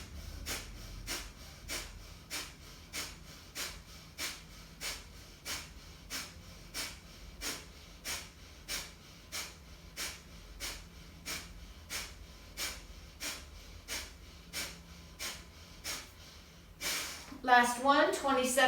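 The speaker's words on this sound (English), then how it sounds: "just begin with breathing forcefully through the nose." Forceful nasal breaths during a yoga breathing practice, about thirty sharp even puffs in a fast steady rhythm, close and clear, ending in a louder burst of exhalation.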